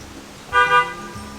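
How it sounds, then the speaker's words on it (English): A single vehicle horn honks as it goes around a corner on a scenic Vermont road, one short double-peaked toot, moderately loud over faint background noise. "They honk when they go around the corner so they don't get hit."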